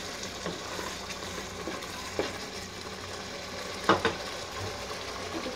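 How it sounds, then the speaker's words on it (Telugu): Ginger garlic paste frying in a pan for an Andhra-style cauliflower masala curry, a soft steady sizzle with a few brief scraping stirs, quiet and close. "కొంచెం జింజర్ గార్లిక్ పేస్ట్, కొంచెం ఫ్రై చేసుకోవాలి"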